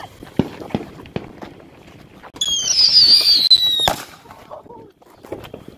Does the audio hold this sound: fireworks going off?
yes